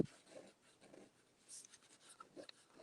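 A fine nib on a small brown pen scratching across paper in an urban sketch, soft intermittent strokes with brief pauses, close and quiet.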